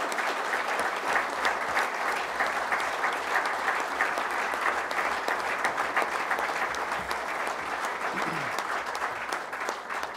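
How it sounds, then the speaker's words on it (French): Sustained, full audience applause at a municipal council session welcoming a new deputy mayor in Gonfreville-l'Orcher, a room of people clapping steadily and evenly for about ten seconds. "je pense qu'on peut l'applaudir"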